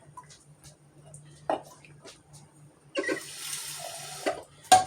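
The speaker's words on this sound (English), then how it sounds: "I'm going to add just a little bit more water" Water pours into an Instant Pot of chili, a splashing stream of about two seconds after a stretch of quiet handling clatter, with a small knock at the end.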